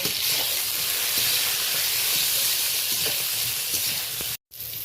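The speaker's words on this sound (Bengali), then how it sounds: "একটা ঢাকনা চাপিয়ে আমি বেগুনগুলো দেখুন হালকা লালচে করে বেগুনটা বেশ ভেজে নিলাম" Eggplant frying in a pan with salt and turmeric: a loud, continuous sizzle and hiss that cuts out briefly just before the end, with no talking.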